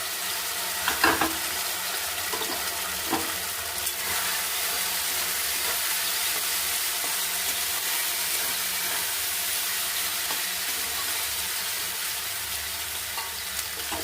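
Sliced ridge gourd, coated with asafoetida and spices, fries in a pan with a continuous bright sizzle and hiss, broken early on by a few sharp clinks from stirring, then settling into a steady crackle.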